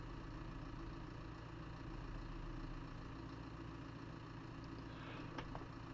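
A tractor engine in Farming Simulator 17 idles with a steady, low, humming drone that holds unchanged for several seconds, alone and without talk.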